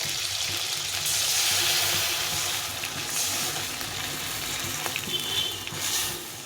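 Mustard paste going into a hilsa curry pan with a soft steady sizzle and watery bubbling, close and moderate, broad hiss throughout with a few faint clicks, no talk.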